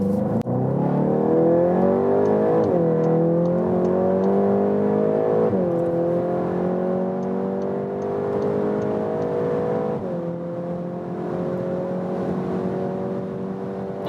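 A front-wheel-drive Volkswagen Golf 8 GTI Clubsport accelerates hard from about 30 on up to 200 km/h, its engine note rising loud and close through three upshifts, with no talk over it.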